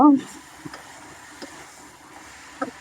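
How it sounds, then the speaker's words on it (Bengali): Moringa drumsticks and potatoes are stirred in a frying pan for a rohu fish curry, giving a low, soft sizzle with occasional scraping knocks of the spoon against the pan. "এই পর্যায়ে আমি সাজনা আর আলু দিয়ে দেবো। দিয়ে নাড়াচাড়া দিয়ে নেব।"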